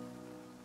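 Rain falls steadily in the video game The Flame in the Flood, a faint, even wash of patter layered over a soft sustained tone, with no voices.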